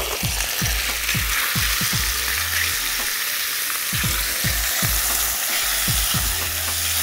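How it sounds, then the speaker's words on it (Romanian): Meat fries in hot oil in a pan with a loud, steady sizzle, while irregular knocks and scrapes of stirring break through close by. "Punem carnea și o prăjim."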